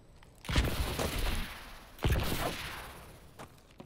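Gunfire in the video game Call of Duty: Advanced Warfare, two sharp bursts of shots about a second and a half apart, each trailing into a rolling rumble, moderately loud with no talk.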